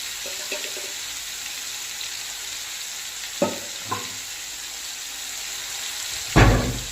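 Chicken frying in a pan, giving a steady close hiss with a few sharp spatters and a louder burst of sizzling near the end.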